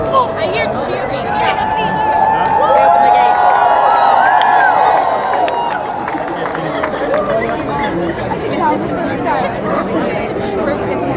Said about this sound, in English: I hear cheering.